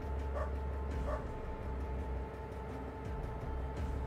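A dog in the video game Underrail barks twice in quick succession early on, short yips over a low steady background hum, then the ambience continues without further barks.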